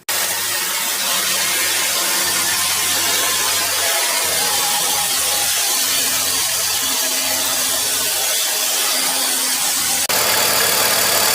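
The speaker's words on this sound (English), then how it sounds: "I'm going to start the car and do that with the car running." A car engine idling while a hose rinses degreaser off its engine bay, a steady low hum under a constant broad wash of spray noise, with a slight shift near the end.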